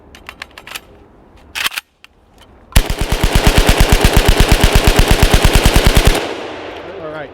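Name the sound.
machine gun firing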